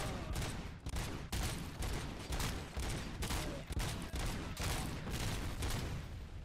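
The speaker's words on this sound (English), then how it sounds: "Why are you shooting me, bro?" Rapid, dense gunfire in the video game Robocop: Rogue City, sustained bursts of loud shots repeating in quick succession with no talk over it.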